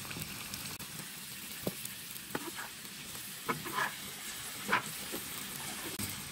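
Chopped tomatoes for a tomato-onion chutney sizzle in a hot pan, a faint steady hiss punctuated by several louder bursts of spitting and stirring, heard alone without speech.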